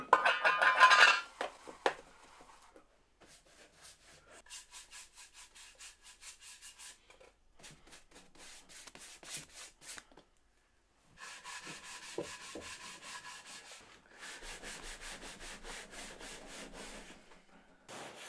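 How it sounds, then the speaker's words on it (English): Wax polish being brushed onto a wooden gift piece and buffed off, heard as bursts of dry rubbing and scrubbing strokes in a quiet room, louder at first, then steady rhythmic passes broken by short pauses. "I've got some wax polish that I'm just going to get some of that brushed on and buffed off."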